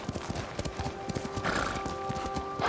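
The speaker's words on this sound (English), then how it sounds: "You're a good horse, Nobu." A horse in the video game Ghost of Tsushima gallops with a steady clip-clop of hooves, then neighs partway through, all fairly close over a continuous game ambience.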